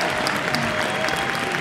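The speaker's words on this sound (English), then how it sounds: "Got a whole crowd clapping for you." Sustained audience applause fills a live talk-show studio, a dense steady wash of clapping hands with no pauses, close and fairly loud throughout.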